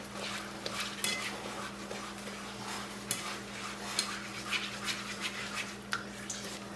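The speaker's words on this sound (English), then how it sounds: "Just continuing to stir it like this." A utensil stirs melting dipping sauce in a pan on the stove, giving soft repeated scraping and clinking against the metal over a steady low hum, fairly quiet with no talking.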